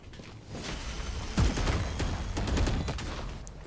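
Rapid gunfire bursts from Vandal and Odin weapons in a Valorant esports match, sharp cracks and sustained fire close up over a busy game backdrop.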